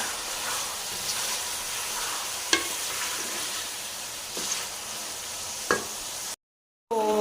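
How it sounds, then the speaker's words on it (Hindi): Onions and tomatoes frying in a pan: an even, close sizzle with a few sharp scraping stirs spaced a couple of seconds apart, and a brief silent gap near the end. "इनको हम अच्छे से भुनेंगे 5 मिनट तक"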